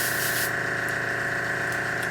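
A steady hissing airbrush sprays paint onto Eldar defence wall models, heard close as a brief stronger burst followed by a continuous even spray with a faint compressor hum underneath.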